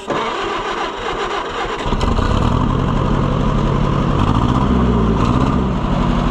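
An Oliver 550 tractor engine is cranked and catches after about two seconds, settling into a loud, rough, uneven running rumble close by with no speech over it.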